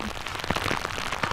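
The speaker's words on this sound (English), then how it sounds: "It was raining, but it wasn't raining this hard." Heavy rain pours during a storm in Hernando County, a dense, steady hiss of drops striking surfaces, loud and continuous through the short stretch.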